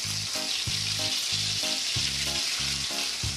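Egg batter is dropped into hot oil in a kadai pan while making chicken kabiraji, a loud, dense, continuous frying sizzle close by with a regular pulsing hum beneath and no talk.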